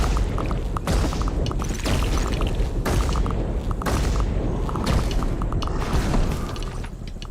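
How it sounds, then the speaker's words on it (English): A wall is smashed down in the video game Kingdom: Norselands, heard as a series of heavy thuds and crashing impacts at roughly one-second intervals over a continuous rumbling game soundscape. "They destroyed that wall."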